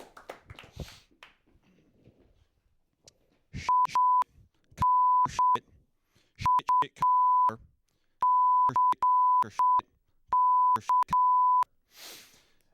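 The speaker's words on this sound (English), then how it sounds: "I just said a really bad word in Morse code when, they bleep it out" Morse code beeps stand in for a swear word during a stand-up comedy act on a late-night program, a clear run of short and long tones in uneven groups after a few scattered noises.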